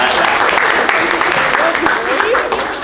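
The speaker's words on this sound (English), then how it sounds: "Let's get a round of applause for Jardine." An audience claps in steady, dense applause that holds throughout and tapers slightly at the end, with some voices mixed in.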